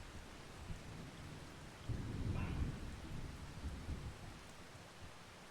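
Rain falls steadily in the Island Preservation Challenge video game, and a low rolling rumble of thunder swells midway before fading back into the soft, even patter.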